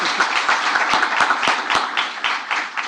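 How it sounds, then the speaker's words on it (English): An audience at an AI conference in Zagreb gives brisk applause, with individual sharp hand claps standing out from a busy, moderately loud patter. "So please, huge applause,"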